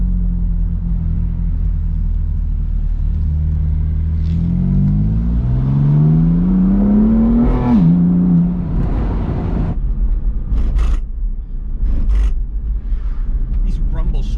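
An Aston Martin V8 Vantage or BMW M4 drives mountain roads in Tennessee, its engine droning low and then climbing in pitch as it accelerates, followed by road rumble and a few sharp knocks and clicks.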